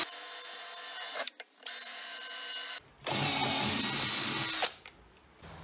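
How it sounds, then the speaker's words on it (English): Two bursts of power drilling 4 mm holes in a metal frame, the first briefly pausing, the second louder and harsher, close up with no talking. "So just drill the 4 millimeter holes."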